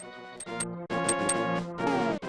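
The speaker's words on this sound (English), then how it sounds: "but if there's a secret cave or a wall, then it sounds like this." Sword tapping a hollow secret wall in a Zelda game, a run of bright ringing clinks in quick succession with a tonal, resonant quality, moderately loud and alone.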